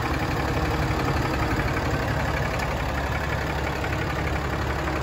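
A Ram dually pickup truck's engine idles steadily nearby on a hot day, a continuous loud low rumble with a faint rhythmic knock and no speech.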